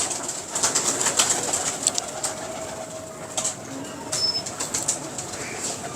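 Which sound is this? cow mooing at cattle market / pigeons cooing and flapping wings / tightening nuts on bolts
pigeons cooing and flapping wings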